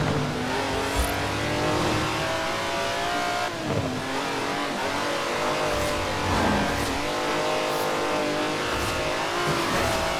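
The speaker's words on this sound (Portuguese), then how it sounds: "Esse é um carro de corrida com 90 anos de idade" A 90-year-old race car in Forza Horizon 4 drives with its engine droning loud and close and continuous, its pitch climbing and dropping through gear changes and revs for about ten seconds.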